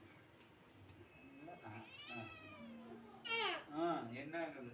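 A cat meows several times in a bright, wavering voice, the calls rising and falling close by, mixed with a person talking and a child's babbling in a home setting.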